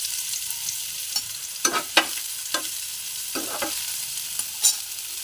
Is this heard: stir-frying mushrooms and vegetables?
yes